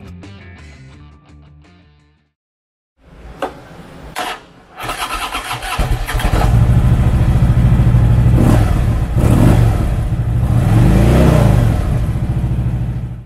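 A 2013 Harley-Davidson Dyna Switchback with a V-twin engine and 6-speed transmission starts up after a short pause, then settles into a loud, lumpy idle with several throttle blips rising and falling close by.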